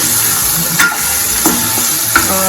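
Cherry tomato curry being stirred in a pan after salt and jaggery are added, with a steady frying hiss and a few soft spoon scrapes spaced across the stretch.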